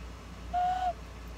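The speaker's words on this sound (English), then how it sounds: "It's actually a whistle too." A handmade clay whistle shaped like a rhino is blown once, giving a single clear, steady, owl-like note lasting about half a second, close and alone over faint background hum.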